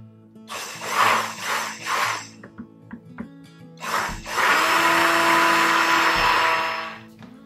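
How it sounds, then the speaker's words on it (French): A blender purées a semi-liquid lime caramel in a pastry kitchen, running in two loud bursts of whirring with short pauses and clatter between them, the second run longer and steadier. "Maintenant, je vais mixer mon caramel"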